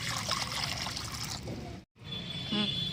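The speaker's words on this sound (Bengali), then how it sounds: "ডালের জন্য জল দিয়ে দিলাম" Water poured into a pot for potato lentil dal makes a close, continuous splashing trickle that breaks off for a moment, then resumes with a rising gurgle as the pot fills.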